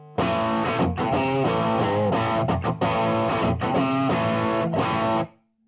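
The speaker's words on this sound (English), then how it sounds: "Here's Dark Matter Distortion alone." Electric guitar played through a TC Electronic Dark Matter Distortion pedal on its own, a loud, thick distorted tone in strummed chords and short bursts for about five seconds before cutting to silence.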